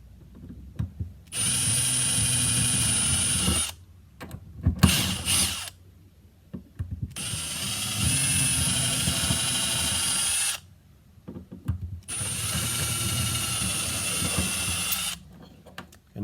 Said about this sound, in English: First, we're going to start with a small pilot bit, go through the plastic and into the wood just a little bit.